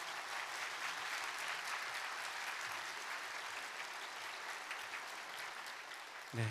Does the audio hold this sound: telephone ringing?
no